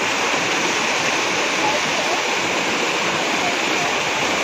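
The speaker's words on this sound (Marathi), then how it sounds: "हे असं पाणी वाहत आहे." Waterfall at a temple pours in a steady, loud rush of flowing water, unbroken and close, with a voice speaking over it.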